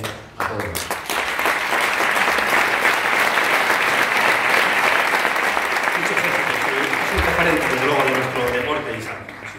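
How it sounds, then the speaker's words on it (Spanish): Audience applause at a sports awards gala in Segovia, a dense sustained ovation of many hands filling the room, loud and steady for most of the span before tapering off at the end. "desde aquí nuestro aplauso"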